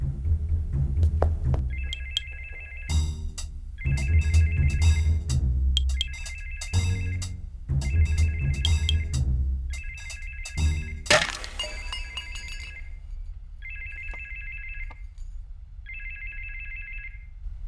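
A Nokia 6600 mobile phone rings in a Telugu film scene, its loud electronic ringtone repeating in about eight short, evenly spaced bursts, with heavy thuds and cracks among the earlier rings and no voices.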